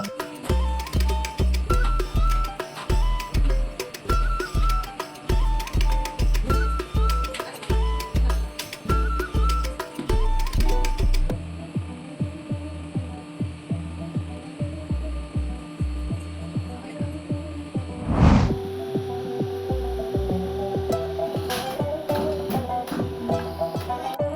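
A machine for making herbal sambrani from 108 herbs runs with a steady rhythmic thumping and hum, then shifts to a smoother whir with a tonal whine after a brief loud burst.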